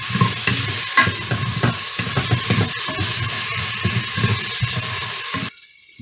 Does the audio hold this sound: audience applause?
no